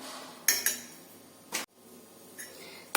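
A spoon scrapes and clinks against a pot while mixing cooked rice with egg, several sharp metallic knocks spaced irregularly over a quiet background.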